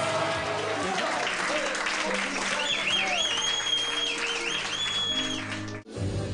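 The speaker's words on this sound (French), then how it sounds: "Et on peut leur faire un tonnerre d'applaudissements à nos mariés ce soir." Wedding guests applaud the newlyweds in a steady wash of clapping over music at an evening reception, with voices and a tonal melody mixed in before a sudden drop near the end.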